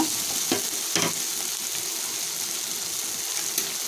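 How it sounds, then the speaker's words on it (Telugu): Chopped medium-sized tomato pieces cook in a pan, giving a continuous soft sizzle with a few sharper clicks and scrapes, close and steady with no voices. "మూడు మీడియం సైజ్ టమాటా ముక్కలుగా కట్ చేసుకొని ప్యాన్లో వేసుకోవాలండి వేసి బాగా మగ్గనివ్వాలి"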